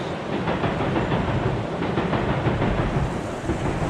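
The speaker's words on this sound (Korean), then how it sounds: "기차가 지나가고 있습니다." A train passing in the distance near Yangwon station, heard from a suspension bridge, as a steady low rumble that holds fairly loud and even for a few seconds, with no one speaking.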